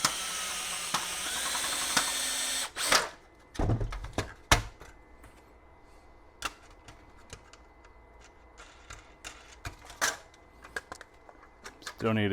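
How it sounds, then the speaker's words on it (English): A power drill bores a hole into a part for a 30 ft antenna mast, a loud steady whine for about three seconds that stops abruptly, followed by scattered clicks, taps and knocks of handling the workpiece. "Still need to drill out the center hole"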